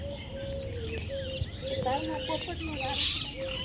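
A parrot in a Botad village calls with several shrill, whistling notes close by, while people talk nearby and other farmyard birds add faint chirps and clucks in the background.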